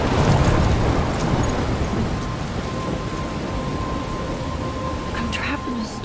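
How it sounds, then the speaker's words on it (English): A thunderstorm in the video game Life is Strange, with continuous heavy rain hiss and low rolling thunder rumble that is loudest at the start, steady and enveloping throughout. "I'm trapped in a storm?"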